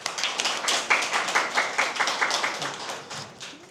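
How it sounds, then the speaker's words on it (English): A small audience claps to welcome a guest speaker at a lecture in Korea, a light, fairly even patter of hands that slowly tapers off, with no voices. "shall we give her a round of applause to welcome."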